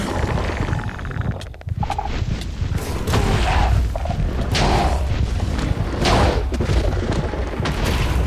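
The Twilight Forest hydra attacking in Minecraft: continuous heavy booming and thudding blasts with crashing impacts, loud and dense throughout with no pause, with no talk.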